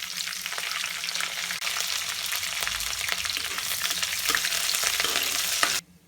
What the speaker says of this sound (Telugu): ఇప్పుడు ఇందులోకి కట్ చేసి పెట్టుకున్న అల్లం ముక్కలు వేసేసుకోవాలి పచ్చిమిర్చి కూడా వేసుకోవాలి కరివేపాకు వేసుకోవాలి